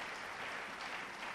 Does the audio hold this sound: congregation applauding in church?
yes